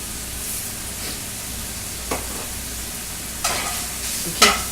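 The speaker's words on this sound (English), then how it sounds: "Keep cooking the sausage until all the pink and redness are gone" Sausage sizzles steadily in a frying pan seasoned with red and black pepper, a constant close hiss broken by a few sharp scrapes of stirring near the end, with no talking.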